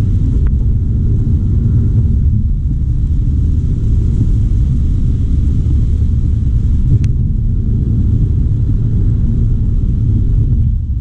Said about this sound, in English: just with all the rain and all the traffic